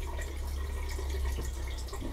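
Water runs steadily from a newly installed vessel sink faucet, a constant close hiss and splash with no breaks and no voices.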